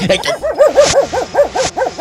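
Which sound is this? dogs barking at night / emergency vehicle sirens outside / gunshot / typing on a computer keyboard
dogs barking at night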